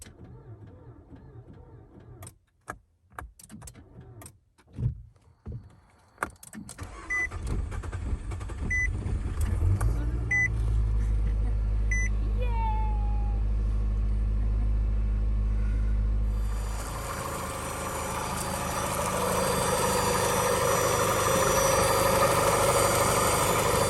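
A 2013 Nissan Altima engine, with a cylinder 5 fuel injector circuit fault, catches after a few sputtering cranks and settles into a steady, close idle with faint ticking, then a broader rush of noise joins it.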